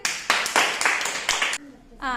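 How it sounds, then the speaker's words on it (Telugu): Children in a first-grade classroom clap in a quick burst of about six claps, then a voice follows. "వెరీ గుడ్ క్లాప్స్ కొట్టండి"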